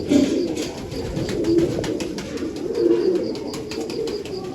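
Pigeons coo repeatedly at close range, several low throaty rolling calls in a loose rhythm over light rustling and soft background noise.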